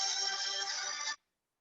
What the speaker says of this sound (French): Ah, il y a un téléphone qui sonne.